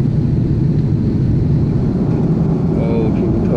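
Steady, loud airplane cabin noise during a flight, a continuous low-pitched engine and air roar with a constant even texture and a brief faint tone near the end.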